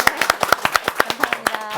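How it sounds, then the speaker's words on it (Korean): Applause from a seniors' academy audience at a Seoul Catholic parish hall, given to a lecturing professor after an hour-long talk on communication: a short burst of roughly ten or eleven sharp, evenly spaced claps. "다시 한번 박수 부탁드리겠습니다."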